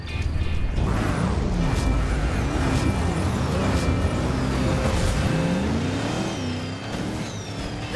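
Race cars revving loudly at the start of a destruction derby race at Thunder Hollow in a Cars video game, a dense continuous engine roar with rising and falling pitch sweeps throughout.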